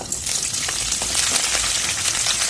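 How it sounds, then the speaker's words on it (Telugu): Sliced green chillies frying in hot oil for an okra tamarind stew, a loud dense crackling sizzle that stays continuous and close throughout. "ఇలా అయితే బాగా వేయించుకుందాం చూడండి చక్కగా అయితే వేగిపోయి"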